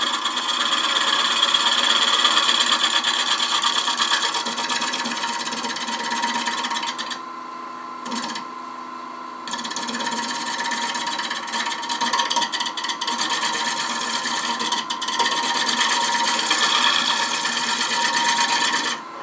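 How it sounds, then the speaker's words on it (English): A tool shear-scraping wood on a lathe gives a steady, close rasping hiss as shavings peel off, continuous for most of the time, with a brief pause in the middle before the scraping resumes. "You can see we're getting very nice shavings with that shear cut, shear scrape."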